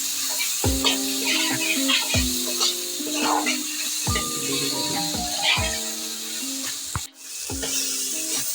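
Fruit chutney ingredients with turmeric fry and are stirred in a pan, with a continuous close sizzle and repeated scraping, clinking strokes of the spoon against the metal.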